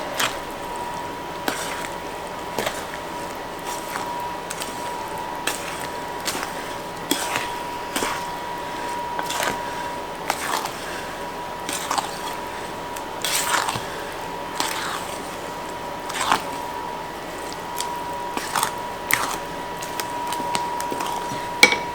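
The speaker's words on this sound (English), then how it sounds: "I'm more going to fold it to combine it, because I don't want to totally break up that bread" Bread gently folded into a wet bread pudding mixture, soft irregular squishes and clicks from the spoon and bowl repeating close by over a faint steady hum.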